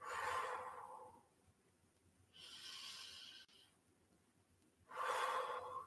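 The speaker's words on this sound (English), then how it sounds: "help the kids learn to take a deep breath" Slow, deep breaths in and out during a starfish breathing exercise for children, soft and close, in three long airy waves separated by quiet pauses.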